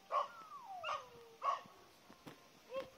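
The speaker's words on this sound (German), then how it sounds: "Und da ist ein nerviger Hund." A dog in a national park on Cape Verde barks three times in a short series, moderately distant and fairly faint, with a thin whistle-like tone sliding beneath the first barks.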